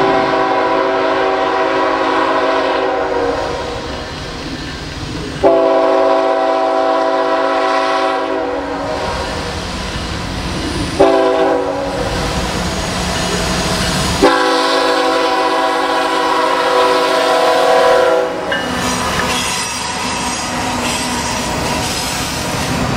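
Norfolk Southern locomotives in Atlanta and Austell, Georgia sound a loud, sustained multi-chime horn in repeated long blasts over continuous rail rumble and wheel noise as the train passes close by.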